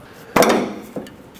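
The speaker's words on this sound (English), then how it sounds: "these corner pieces should pop off if you just lift them at the right angle." A plastic corner trim piece pops off a 2009-2014 Honda Fit with one sharp close snap, followed by a smaller click.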